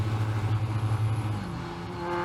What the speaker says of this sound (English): In my heel and toe I'm too heavy on the throttle and the engine smacks into the rev limiter